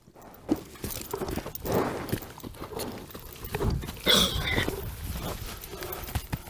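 A new relay horse being worked for Indian relay racing walks close by, its hooves clip-clopping in an uneven rhythm over rustling outdoor noise.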